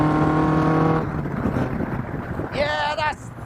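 A Duratec-engined Indy R race car with a short shifter pulls hard through its gears. A loud, steady engine note holds, drops into broad roaring noise, then climbs sharply again near the end as it revs up.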